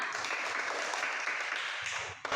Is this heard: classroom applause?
yes